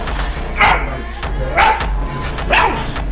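A cartoon dog barks three times at an even, roughly one-second pace, each bark loud and close over a low background rumble.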